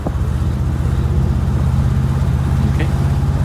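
A 1963 Lincoln Continental with automatic transmission under way, its engine giving a loud, steady low drone with a smooth shift and no pause in the sound.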